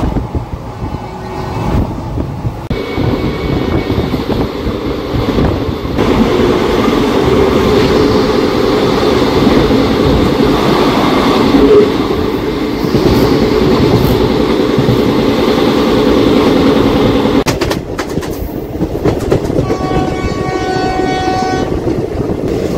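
A Tirupati to Puri Express passenger train runs loud and close, with continuous rumbling wheels and rhythmic clatter over the rails, then a brief gap and a change near the end as the sound shifts.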